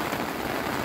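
Heavy rain pours steadily at the Zabumbão dam, a dense even hiss of drops striking the surface with no pauses or voices.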